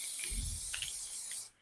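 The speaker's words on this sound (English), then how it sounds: "I can spray everything with black color." Black spray paint hisses steadily from an aerosol can in a craft setting, one continuous close, loud spray lasting about a second and a half before cutting off.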